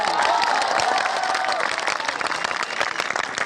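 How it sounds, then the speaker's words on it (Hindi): A large audience at a literary festival bursts into sustained, dense applause, loud and close, continuing steadily for several seconds with scattered cheers. "एक बार अपने माता पिता के सम्मान में जम के तालियां बजाओ।"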